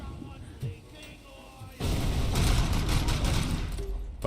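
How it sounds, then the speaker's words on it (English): M203 grenade launcher fire in the video game RoboCop: Rogue City, with a few scattered thumps at first, then a sustained loud barrage of blasts and gunfire that continues to the end. "I think I heard like 3 or 4 M203s"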